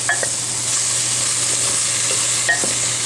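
Coq au vin red wine sauce thickened with three teaspoons of cornstarch, stirred in a pan with a steady soft sizzle and occasional light scrapes of the spoon, no voices.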